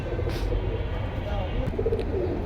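Pigeons coo softly in low, rolling calls near the end, partly buried under a steady wash of background noise.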